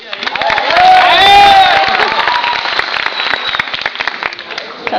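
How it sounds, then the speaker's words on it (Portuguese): A television studio audience breaks into loud applause and cheering at the close of a show, swelling to a peak in the first seconds and then tapering, with whoops and voices mixed through the clapping. "Cadê a salva de palmas?"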